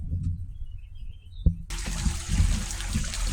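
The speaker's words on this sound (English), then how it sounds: "I got the pump set up. I got my sluice set up. So I'm just about ready to run." Water from a pump rushes steadily through a gold sluice box set at a shallow angle on a sand riverbank, a continuous broadband wash that starts abruptly partway through after a brief quiet lull.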